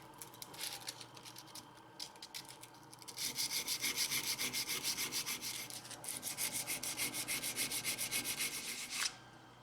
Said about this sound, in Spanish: lijar hasta que el marcador desaparezca y pasar a una lija más fina